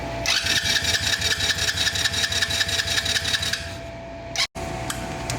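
Small Kayo 60cc dirt bike engine cranking and sputtering with a fast rhythmic pulsing for several seconds, then settling into a steady idle after a brief break. The engine is close and fairly loud.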